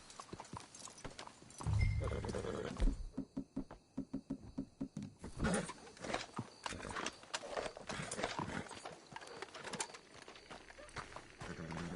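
Horse hooves clip-clop at a steady trot in the video game Red Dead Redemption 2, with a brief whinny and some rustling in between, loud and close throughout.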